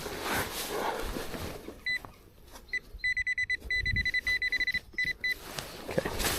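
A metal detector pinpointer sounds over a buried target on a Derbyshire farm, giving a run of short, rapid electronic beeps in quick bursts at moderate level, with no talking.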